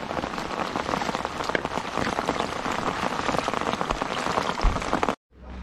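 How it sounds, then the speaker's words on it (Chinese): Heavy rain pours down steadily around a campervan group cooking dinner outdoors, a dense close patter on surfaces that stops abruptly near the end, with no voices. "在这大雨里边洗，洗再开心。"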